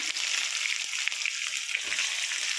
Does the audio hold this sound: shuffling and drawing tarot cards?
no